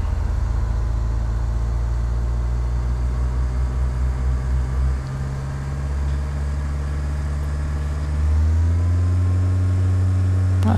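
Aircraft engine noise in a flight simulator game during a takeoff run, with a steady low engine drone that shifts pitch partway through and rises again toward the end, loud and continuous with no talk.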